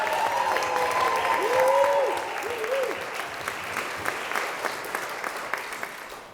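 Wedding guests break into applause during a reception speech, steady dense clapping over a whoop and murmuring crowd, fairly loud at first and then tapering to scattered claps.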